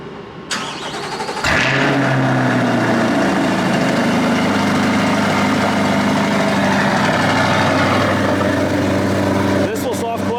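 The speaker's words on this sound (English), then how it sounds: "Obviously, that V8 sounds pretty good." A Chevrolet Corvette convertible V8 cold-starts with a sharp crank and loud flare, then settles into a deep, steady, rumbling idle heard close up, with a couple of light clicks near the end.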